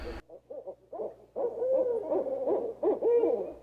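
Owl hoots repeat in a steady series at the International Owl Center near Houston, Minnesota, in autumn, moderately close, with a short burst of noise at the start and no talk.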